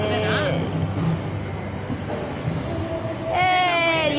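A metro train in Kuala Lumpur rumbles low and steadily while people talk nearby, with tonal chimes or voice rising at the start and again near the end.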